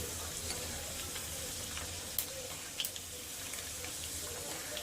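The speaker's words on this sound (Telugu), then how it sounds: "ఒక రెమ్మ కరేపాకు ఇలా వేయించుకోవాలి" Curry leaves fry in plenty of hot oil for an Andhra-style gongura chutney, a steady soft sizzle running throughout with a couple of faint clicks, close and even in level.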